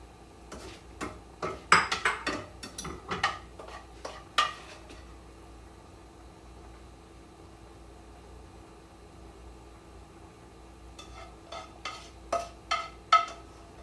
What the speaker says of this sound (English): I'm going to scoop this ground beef out because I don't want the oil